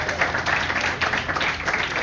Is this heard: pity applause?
yes